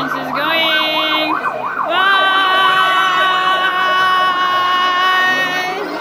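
A toy ambulance siren wails in a rapid up-and-down electronic pattern, loud and close, briefly cutting out before resuming steadily.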